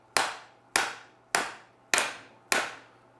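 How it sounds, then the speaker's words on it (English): Five evenly spaced, sharp taps of a plastic hammer striking a U-joint cap on a Toyota Tacoma driveshaft during carrier bearing replacement, each a crisp knock with a short decay, close and loud with no talking. "I'm gonna take this plastic hammer and hold my U-joint and hopefully get our cap."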